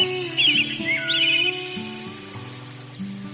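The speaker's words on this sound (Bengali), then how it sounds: "রহিমপুর বনে অনেক পাখির বসবাস" Cartoon birds chirp and tweet in a forest setting, bright bursts of song over a steady background of animated-film music, clear and close with no talking.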